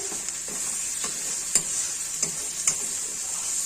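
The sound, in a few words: sautéing tomato masala for fish curry, stirring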